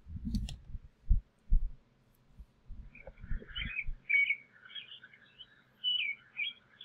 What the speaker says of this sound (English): woken up out of a sound sleep to birds chirping